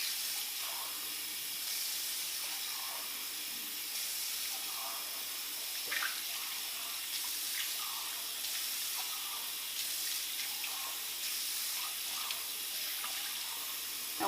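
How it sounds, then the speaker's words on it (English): Tap water runs steadily into a sink while a spray tan machine's solution container is emptied and rinsed, giving a continuous, even hiss of flow for the whole stretch with no voices. "So you'll turn on your sink obviously, and then you'll pour the solution out."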